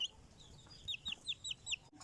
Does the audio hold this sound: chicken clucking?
yes